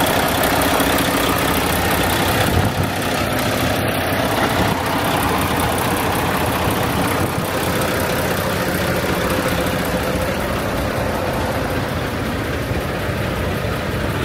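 A 2022 Mack Anthem semi truck idles with a steady, loud, unbroken diesel rumble close by, without speech.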